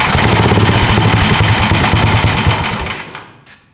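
A go-kart engine runs with the choke on, a rough buzzing drone that holds steady for a few seconds, then dies away and falls quiet near the end.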